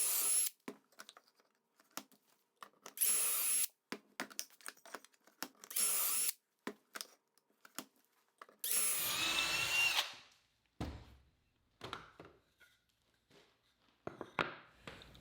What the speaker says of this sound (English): I'm attaching the apron to the legs with 1¼ inch exterior pocket hole screws.